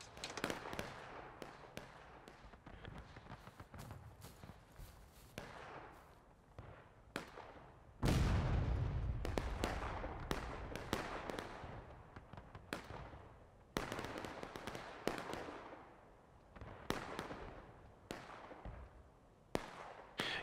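Artillery cannons firing in the American Civil War game War of Rights, a dense run of sharp, loud booms and cracks at irregular intervals, with one especially heavy blast rolling out about midway through the barrage.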